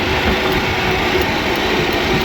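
An electric Allis Chalmers tractor pulls a New Holland 1034 bale wagon loaded with hay, a steady rattling, clattering rumble of wheels and wagon throughout with no voices.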